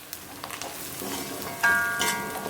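Onions sauté in a pan with asafoetida for rice upma, giving a steady close sizzle broken by a few clicks and scrapes of stirring, with one louder scrape near the end.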